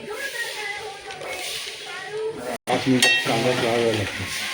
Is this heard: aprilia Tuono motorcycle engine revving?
no